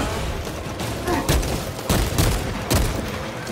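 Enemy gunfire in Warhammer 40000 Space Marine 2, a few loud broadband bursts of shots at irregular intervals over a continuous dense battle din.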